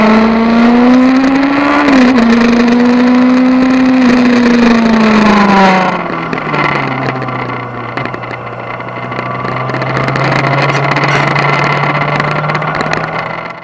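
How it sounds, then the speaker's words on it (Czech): A Yamaha XJ6 motorcycle with an IXIL SX1 exhaust drones loudly and steadily through a turn, its pitch sagging midway into a lower, rougher, rattling rumble with a raspy edge. "v té polovině té zatáčky jste slyšeli takové chrčení, drnčení"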